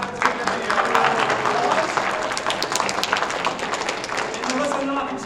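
A college drama club audience applauds at a winter improv show, giving a dense, steady wash of close clapping that lasts the whole stretch and fades slightly at the end.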